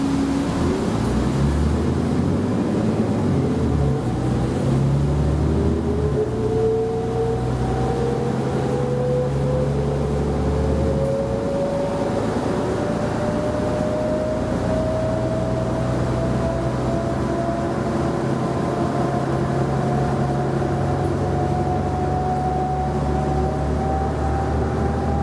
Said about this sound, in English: New Flyer has always been pretty good about making cool sounding buses